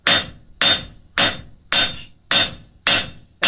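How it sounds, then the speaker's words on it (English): A blacksmith's hammer strikes hot metal on an anvil to spread it, seven sharp ringing blows landing at an even, steady pace, close and loud with brief decays between hits. "work with overlapping hammer blows back to yourself, preferably hitting the material"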